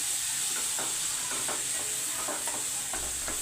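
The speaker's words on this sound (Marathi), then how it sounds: "लसूण मिरची ओला नारळाची चटणी, ती घालून घ्यायची आपल्याला. ती चांगली परतायची" Garlic, green chili and fresh coconut chutney sautéing in a pan gives a steady, soft sizzle, with a spoon repeatedly stirring and scraping against the pan.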